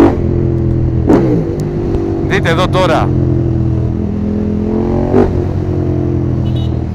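Motorcycle engine held at a steady throttle with small rises in pitch: a close, continuous drone with someone speaking briefly over it.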